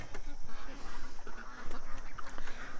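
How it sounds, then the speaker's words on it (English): Ducks in a pen quack and honk over and over in a busy, overlapping chorus, close and loud, with a voice speaking underneath. "all you guys are seeing is the ducks trapped in the pen"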